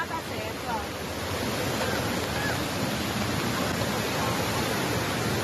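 Floodwater from an overflowing river in Cachoeira do Campo rushing past, a loud, steady roar of moving water filling the whole scene without pause.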